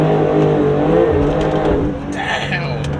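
A 2021 Porsche 992 Turbo S accelerates hard, its engine roaring loud and close with rising revs and a strained, rough-edged tone, easing slightly toward the end as a voice exclaims over it.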